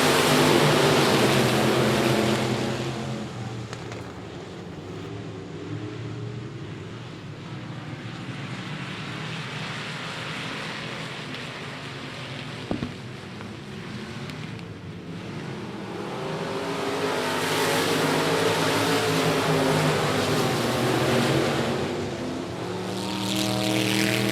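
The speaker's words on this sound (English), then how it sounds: "Limited Modifieds blazing around the trail" USRA Limited Modified race cars roar around the I-37 Speedway oval in a main-event race, a continuous loud engine drone that swells and fades as the pack passes, with no talking.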